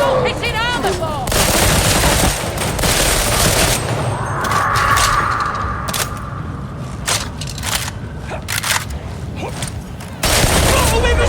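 Gunfire in Warhammer 40000 Darktide as Hive Scum, heavy bursts and a thick fusillade opening loud, then thinning into scattered sharp shots and booms, with voices calling over the combat.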